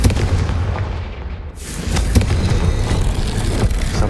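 A Confringo blasting curse explodes in the Hogwarts Legacy video game: a loud, booming burst halfway through lands on top of continuous rumbling game ambience, close and full, with no talking.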